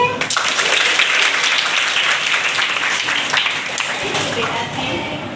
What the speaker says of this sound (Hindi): आपको एक ताली तो बज सकती है